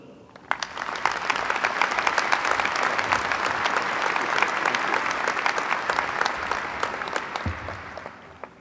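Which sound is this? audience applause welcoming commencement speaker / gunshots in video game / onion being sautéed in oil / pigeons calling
audience applause welcoming commencement speaker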